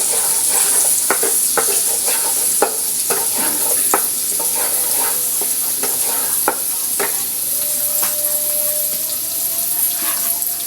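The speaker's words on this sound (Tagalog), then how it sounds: "nag-umpisa na akong maggisa." Garlic and onion sautéing in a pan give a steady hiss of sizzling oil, punctuated by repeated sharp scrapes and taps of a utensil stirring, close and continuous.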